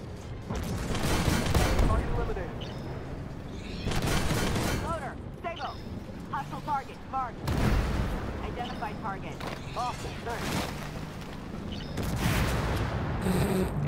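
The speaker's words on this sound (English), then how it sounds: "HE rounds!" Tank cannons fire HE rounds in the Armored Warfare video game: four loud, widely spaced blasts ring out over a busy battle soundscape, with players talking between shots.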